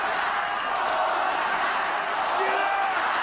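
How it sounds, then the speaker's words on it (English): A wrestling crowd roars and chants steadily throughout a barbed wire match between Funk and Onita, a dense, continuous wash of many voices filling the arena with no pauses. "The crowd chants,"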